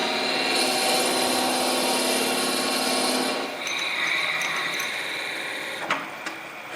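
Wood lathe spinning a stabilized wood ring blank at high speed, a loud steady whirring rub with the tool cutting in, then a quieter hum with a couple of small knocks near the end.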